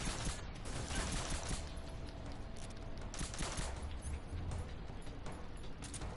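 Continuous AK-47 automatic fire in the video game Metal Gear Solid 3, a dense rattling stream of shots mixed with mechanical clatter, steady and moderately loud throughout.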